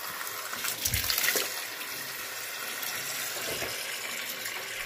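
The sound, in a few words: water running into a container to wash salad greens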